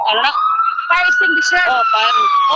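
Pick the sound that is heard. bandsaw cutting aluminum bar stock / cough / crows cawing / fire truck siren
fire truck siren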